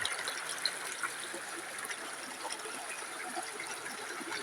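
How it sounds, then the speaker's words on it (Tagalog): Steady spring water flowing and trickling nearby, a continuous bubbling wash with no voices. "ito yung sinasabi ko ng bukal na tubig."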